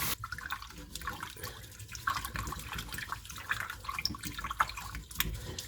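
Rice being washed in warm water in a bowl, sloshing and swishing with small splashes and drips, close and fairly quiet, continuing steadily.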